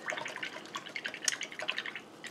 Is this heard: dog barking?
no